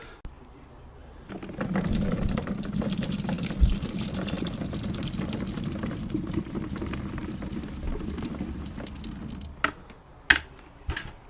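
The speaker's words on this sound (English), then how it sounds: "I'm just going to drain these out, put them into my bucket" Brined olives are drained from their liquid into a deep bucket, a close, continuous splashing pour lasting several seconds, ending with a few sharp knocks and clatters of the container.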